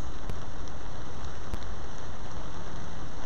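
Heavy outdoor rain pours down in Huron. There is a loud, dense, constant hiss of drops striking surfaces nearby, with a couple of sharper drips standing out.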